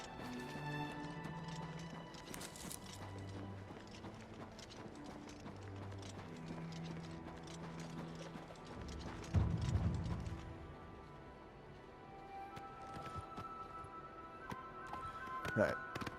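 Horse hooves clip-clop in Oblivion Remastered, a steady trotting rhythm under game music and a voice talking, with a louder thudding burst partway through.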